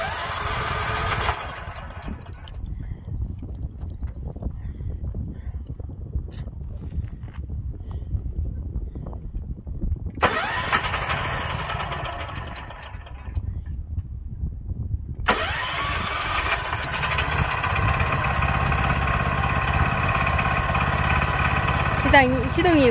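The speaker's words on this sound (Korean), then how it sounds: "시동을 걸겠습니다." A power tiller cultivator engine is cranked and fires up on a farm field, with bursts of starting attempts separated by gaps before the motor catches and runs steadily, a voice talking over it.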